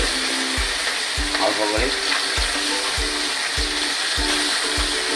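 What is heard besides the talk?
small fish pieces frying in oil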